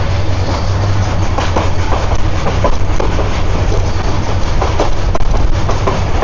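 The Cox's Bazar Express approaching at a station, giving a loud, continuous rumble with a low steady drone and faint rhythmic clatter throughout, close by with no talking.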